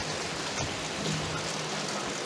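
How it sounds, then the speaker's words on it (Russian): Steady rain falls close by, a dense continuous patter with a few distinct drop ticks, no voices over it. "Я люблю, когда идет дождь."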